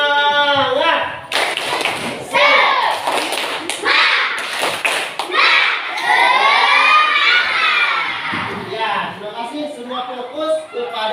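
Schoolchildren in a classroom perform a tepuk semangat clapping chant, shouting rhythmic words in unison between bursts of sharp group claps, loud and lively.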